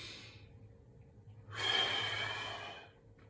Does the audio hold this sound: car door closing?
no